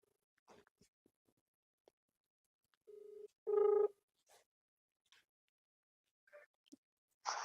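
A telephone number is punched in: a few short keypad tones, one louder than the rest, separated by faint clicks and near silence.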